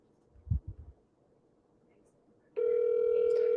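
A telephone call ringing out, heard as a steady, loud electronic ring tone that begins partway through and holds to the end, following a short burst of low voice sounds and quiet line hiss.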